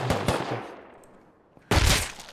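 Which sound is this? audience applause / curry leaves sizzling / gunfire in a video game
gunfire in a video game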